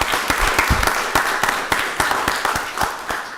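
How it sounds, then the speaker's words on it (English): A crowd at a county board of commissioners meeting claps in a steady round of applause, with sharp, irregular hand claps filling the room. "let's give them a round of applause"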